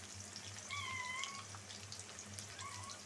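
A cat meows softly twice, a short drawn-out cry and then a fainter one, over a quiet kitchen background with a low hum.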